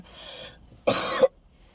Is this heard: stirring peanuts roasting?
no